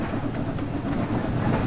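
A train running in the Train Sim World video game gives a steady, loud, close rolling rumble with faint rhythmic clatter throughout, and no voices.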